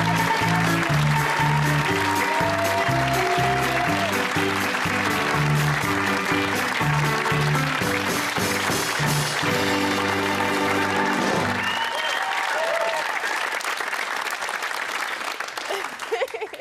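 A studio audience applauds and cheers loudly for a guest on a 2002 television talk show, a dense steady roar of clapping that runs on while music plays underneath and then fades out near the end.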